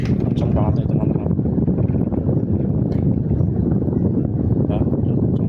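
A box fan roars at its top speed setting 3, a loud constant rush of blowing air close to the microphone, with a person talking over it.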